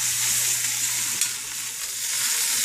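Root vegetables sizzle in hot olive oil in a pan as they are stirred, a steady close frying hiss with a brief scrape of the spoon partway through.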